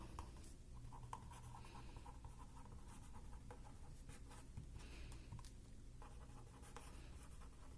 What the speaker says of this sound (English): I write it down.